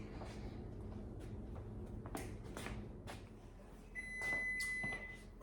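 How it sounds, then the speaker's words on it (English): A kitchen oven timer beeps as a steady high electronic tone near the end, while a king cake bakes, over clattering kitchen noises and handling sounds. "Okay, so the timer is going off."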